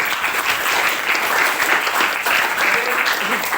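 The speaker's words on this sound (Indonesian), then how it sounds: "Berikan aplaus buat kelompok" A classroom of students claps steadily for a student group, dense and continuous applause throughout with a few voices mixed in.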